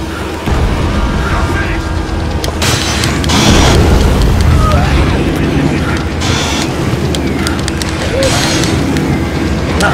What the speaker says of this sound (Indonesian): Oh itu Carlito ngelemparin bom.